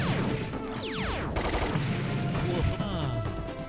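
Rapid bursts of gunfire from the Captain Quazar video game, shots fired at lights, crackle densely and loudly over a few seconds alongside game effects.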